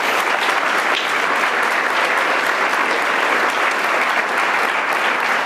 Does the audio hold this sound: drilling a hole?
no